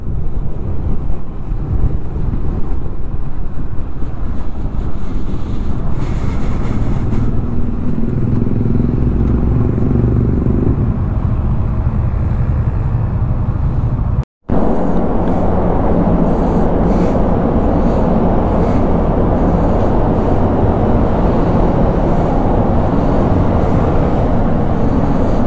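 A motorcycle ride to a place the rider has never been before, with a steady loud engine and road drone running throughout alongside heavy wind buffeting on the microphone and a brief dropout midway.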